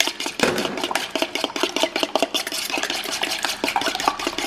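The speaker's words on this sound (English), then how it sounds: "I'm gonna whisk them in a bowl." Two eggs are whisked in a bowl with a fast, steady clatter of a whisk against the sides, loud and close and continuing without pause.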